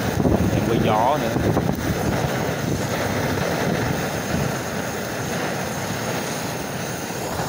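Strong wind blowing across open farmland where coffee roots are being cleared and burned, a steady broadband roar that stays loud and constant throughout with no talk.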